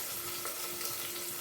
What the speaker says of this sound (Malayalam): ഒരൽപ്പം ഉള്ളി ഇട്ട് കൊടുക്കാം. വെളുത്തുള്ളി, ഇഞ്ചിയും കറിവേപ്പില, തേങ്ങാക്കൊത്തും